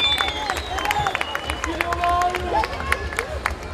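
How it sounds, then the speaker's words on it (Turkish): An audience at an outdoor political rally in Sarıyer claps steadily, a fairly close, even patter of many hands with some murmur from the crowd underneath. "Bu dostlara bir alkış daha alalım ya."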